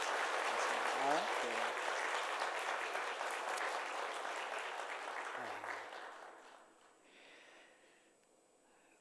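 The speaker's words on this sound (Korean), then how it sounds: "박수로 격려하도록 하겠습니다" A church congregation at a Korean service applauds warmly, dense clapping that swells and then fades away after about six seconds, followed by a quiet voice speaking.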